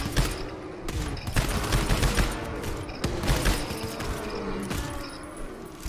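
Sniper rifle shots in GTFO, several loud, sharp reports spaced about a second apart over busy gunfire and game noise, close and prominent.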